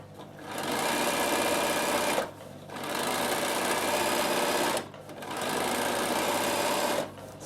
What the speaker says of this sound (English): I'm just going to top stitch down my seam and make it nice and strong.